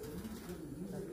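Faint, low pigeon coos drift through a quiet coop of fancier's flying pigeons, soft and continuous across a brief stretch.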